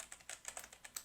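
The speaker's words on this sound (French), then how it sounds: "On va aller dans la barre URL et on va écrire anaconda.com." Quick, light clicks of a computer keyboard as a web address is typed, about ten close keystrokes in a short burst, quiet and alone.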